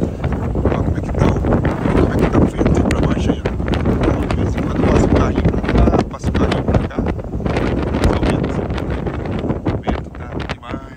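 Strong wind sweeps snow beside a closed road near a trash container, gusting continuously and buffeting the microphone with a loud, rough roar throughout.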